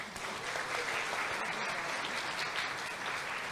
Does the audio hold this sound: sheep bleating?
no